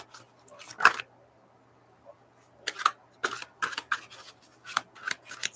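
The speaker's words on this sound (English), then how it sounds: "Sorry if the card shuffling gets boring." Tarot cards being shuffled by hand at close range, quick crisp riffling bursts and flicks in uneven clusters separated by short pauses, with no one talking.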